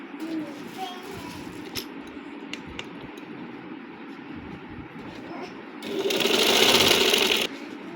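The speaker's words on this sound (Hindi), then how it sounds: "सबसे पहले ये दो हिस्से सी देते हैं।" Sewing machine stitching two pieces of a sharara garment together, a quiet steady whir running through the clip beneath soft background noise, then a louder, brighter burst of rapid stitching near the end.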